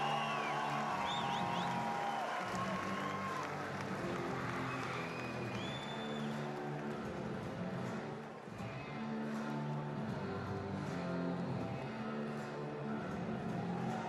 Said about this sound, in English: applaudissements à l'équipe de